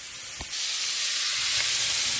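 Hamburger patties hitting a hot skillet, a brief thump followed by a steady, loud broadband sizzle that swells and holds without pause.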